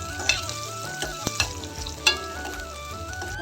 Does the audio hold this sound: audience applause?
no